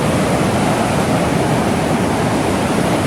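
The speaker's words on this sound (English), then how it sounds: "Now this is what I call a river." A mountain river near Tahoe rushes in a constant, loud broadband roar of flowing water, steady and close with no voices.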